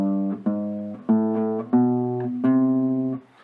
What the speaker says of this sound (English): Meaning now our bass run would sound like this